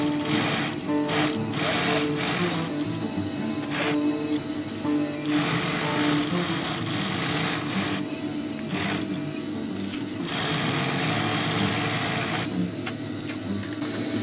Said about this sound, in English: sew it one time to the left, one time to the right, and